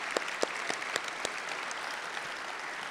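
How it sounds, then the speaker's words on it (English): An audience applauds at a conference storytelling session, a steady wash of clapping in a hall with a few sharper close claps standing out, fairly soft overall and unbroken by speech. "let's have one more round of applause for all of our storytellers today."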